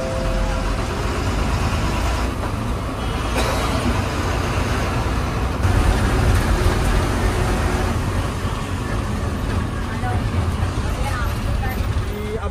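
A state transport bus drives along the road between Vasai and Ambejogai via Malshej Ghat, its engine and road noise a steady loud drone, with a person talking over it.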